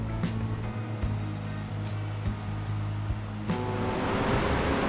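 Ocean waves wash steadily onto the sandy shore of Guhagar beach on the Konkan coast, a continuous soft roar of surf with a few faint gusts of wind.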